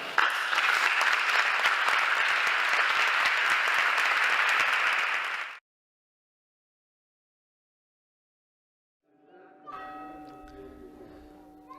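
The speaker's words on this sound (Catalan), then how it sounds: "Un pregó que va arrencar els aplaudiments dels assistents." A crowd applauds after a Holy Week proclamation address in a diocese, with a thick, loud wash of clapping that stops abruptly. A quiet gap follows, then fainter ringing, tonal sounds.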